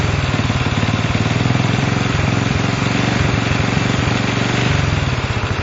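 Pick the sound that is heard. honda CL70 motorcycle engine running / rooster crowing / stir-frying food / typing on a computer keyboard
honda CL70 motorcycle engine running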